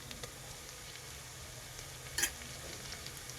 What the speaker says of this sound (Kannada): ನೋಡಿ, ಈರುಳ್ಳಿ ಫ್ರೈ ಆಗ್ತಿದೆ